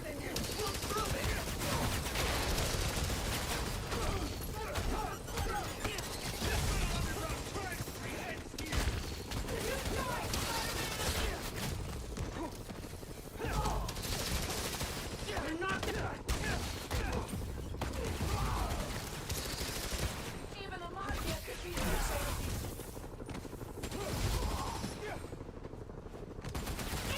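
Sustained gunfire in the video game Marvel's Spider-Man Miles Morales, dense rapid bursts of shots and mechanical clatter filling the whole stretch at steady loudness, with game voices mixed in.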